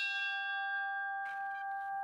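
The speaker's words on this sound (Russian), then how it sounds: "Так, а вот у меня колокол 1774 года." An antique bell cast in 1774 rings out with steady sustained tones that hang and slowly fade, then a second strike adds a brighter burst of shimmer over the lingering hum, close and clear with no talk.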